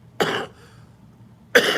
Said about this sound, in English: you cough and it feel like you got something to bring up, and then you don't. It's just like a dry cough